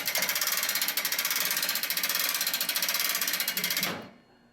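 A lift is cranked to raise a car's front end, giving a fast, even ratcheting click that repeats steadily for about four seconds, then stops abruptly into near silence.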